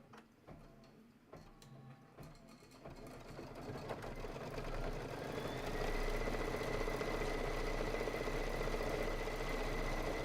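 A quilting sewing machine starts up and settles into a steady, continuous stitching hum with a rapid mechanical rhythm, building in loudness over the first few seconds and then running evenly, fairly near, with no talk.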